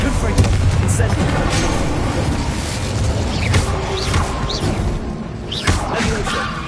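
Spell effects cast in the Hogwarts Legacy video game, a sequence of booming impacts, whooshes and rising magical zips in quick succession, with talk in the background.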